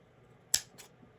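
Scissors cutting card while making a Christmas card: one sharp close snip followed by a quieter second cut a moment later, alone against near silence.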